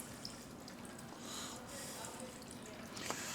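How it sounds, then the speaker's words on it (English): Warm coolant draining from a Ford truck in a shop, a steady low trickle and splash of liquid running continuously, fairly faint with ambient room noise around it. "And now we are draining some fluids."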